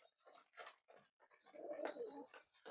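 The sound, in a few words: pigeons cooing and fighting over food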